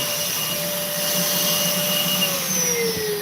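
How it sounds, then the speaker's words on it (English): A vacuum cleaner runs steadily and loudly indoors, its motor whine holding an even pitch before dipping slightly near the end, with no talk over it. "We have a vacuum alert, everyone."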